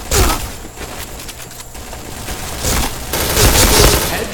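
Rapid gunfire in the online shooter Point Blank, with loud bursts of automatic shots and sharp impacts close up, continuing through the whole stretch with hardly any talk.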